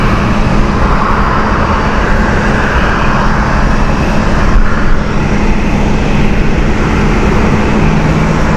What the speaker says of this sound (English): We're watching the Cape Town flight with 777 just getting pushed back at the moment.